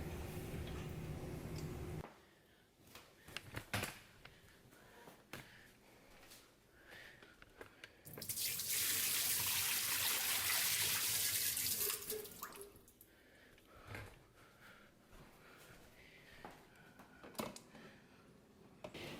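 Water from a KitchenAid side-by-side stainless steel fridge dispenser pours into a pitcher, a strong steady rush for a few seconds in the middle, surrounded by quieter trickles, drips and handling clicks.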